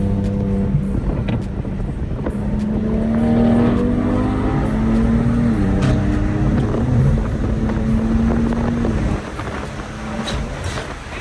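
A BMW M4 car driving on the way to a car meet in the Bay Area, a steady engine drone with a rising and falling tone under wind noise, continuous and close, with no talking.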